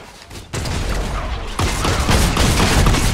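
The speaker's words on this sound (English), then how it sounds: "I was taking heavy fire!" Gunfire rattles in the Fortnite video game as dense bursts of shots, growing louder in two steps into a continuous heavy barrage that fills the clip.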